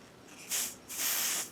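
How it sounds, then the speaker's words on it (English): An aerosol can of makeup in shade Deep gives two close, loud hissing sprays, a short burst followed by a longer one of about half a second. "It sprays on like a cool aerosol can."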